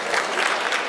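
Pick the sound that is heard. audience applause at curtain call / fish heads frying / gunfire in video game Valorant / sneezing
audience applause at curtain call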